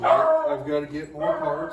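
A pet dog in a home garage shop gives short yips and barks mixed in with someone talking over it at close range.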